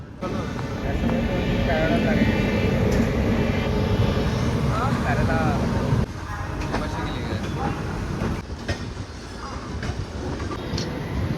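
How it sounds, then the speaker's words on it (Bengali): The Rajendranagar–Howrah Superfast Express pulls out of Howrah railway station with a loud, steady rumble of wheels and carriages, rattling and shifting in tone as it rolls, while a voice talks over it. "এই মুহূর্তে আমাদের গাড়ি ছেড়ে বেরিয়ে গেল হাওড়া রেলওয়ে স্টেশন থেকে"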